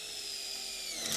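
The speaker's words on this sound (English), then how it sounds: "We're using self-tapping screws right through the flange on the baseboard and into the ground post." A power drill drives a self-tapping screw through a metal baseboard flange into a ground post while building a high tunnel. It is one steady, close, whining run that rises slightly at the end, and no one speaks.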